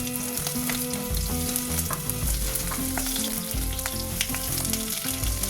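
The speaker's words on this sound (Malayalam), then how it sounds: "വെളുത്തുള്ളി, അതുപോലെ ഇഞ്ചി, പിന്നെ പച്ചമുളക് എല്ലാം ചേർത്ത് കൊടുത്തിട്ട് നന്നായിട്ട് ഇളക്കി യോജിപ്പിച്ചെടുക്കാം" Garlic, ginger and green chili fry in a pan for a Karkkidakam thal moru curry, giving a loud, continuous close sizzle with soft stirring scrapes throughout and no voices.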